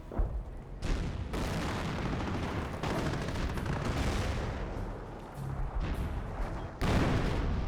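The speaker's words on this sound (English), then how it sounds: "he has another Hummel barrage back here" Hummel artillery barrage in the Company of Heroes video game, a loud, dense roll of shell blasts and gunfire with several heavy impacts punching through the constant rumble.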